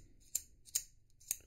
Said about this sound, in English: So the bolt action feels good.